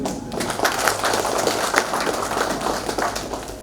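An audience at an NLC India vigilance awareness event for mine workers claps steadily and densely, a close, continuous patter of many hands that holds at an even loudness throughout.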